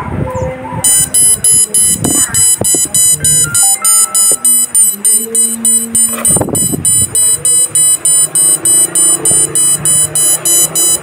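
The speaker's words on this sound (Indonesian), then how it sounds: "Bisa dilihat lampu menyala dan buzzer ikut menyala juga." An LED fire alarm's buzzer, set off by its smoke sensor, sounds a rapid, regular pulsing high-pitched beep that repeats steadily and loudly after a few handling clicks and knocks.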